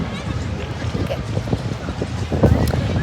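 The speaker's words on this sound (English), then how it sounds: "It's just that it's so windy" Strong wind buffets the microphone on a boat out on the water near Cape Town, with a gusty, rumbling roar that rises and falls and surges louder near the end. Voices can be heard at times.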